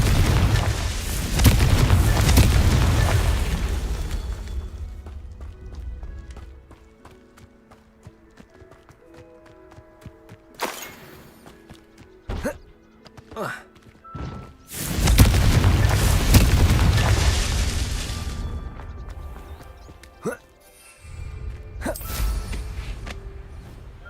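Confringo explosion spells in the Hogwarts Legacy video game go off as loud, heavy booming blasts. Two long rumbling bursts are broken by a stretch of scattered smaller impacts and crackles.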